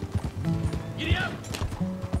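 Quick rhythmic hoofbeats of a galloping horse in Red Dead Redemption 2, with a brief whinny in the middle and a voice talking over the pounding.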